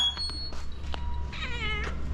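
A cat meows outside a house, giving a drawn-out, wavering meow after a few softer sounds. It is fairly close and clear, and no one talks over it.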